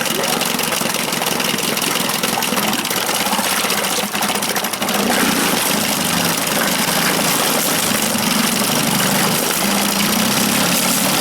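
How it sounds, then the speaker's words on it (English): A small boat outboard motor runs steadily with a newly fitted propeller engaged, a continuous buzzing drone, close and fairly loud, with faint voices underneath. "Okay, I got my motor running. Let's turn that prop on."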